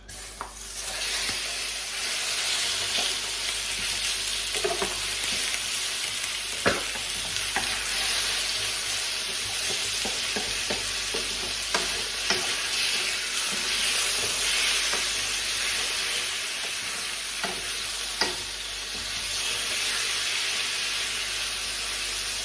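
Steady, loud sizzling of vegan chicken frying in hot oil, with occasional sharper crackles and pops throughout, no voices.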